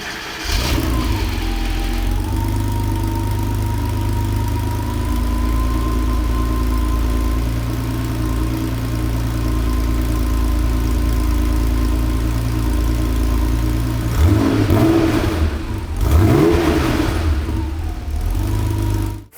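A 1987 Porsche 911 Carrera 3.2 starts from cold and settles into a steady, loud idle, followed by a couple of quick throttle blips late on, heard close with no talking.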